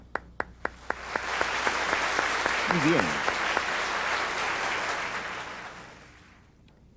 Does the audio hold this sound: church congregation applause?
yes